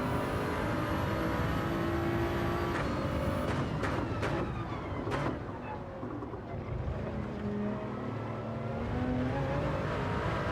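Race cars in a sim racing game roar around the track on a final lap, a steady engine drone with rising and falling pitch as cars close in from behind, continuous and loud.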